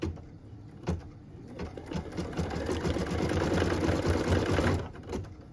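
An embroidery machine stitches a Christmas ornament, a rapid steady mechanical rattle that builds to a sustained run after a few short bursts, then stops; no talking.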